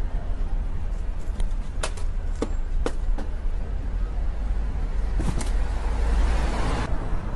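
Cars passing along a busy street in an outdoor market area, a steady traffic roar with several brief louder passes and a swell near the end, with faint bird sounds and some voices in the background.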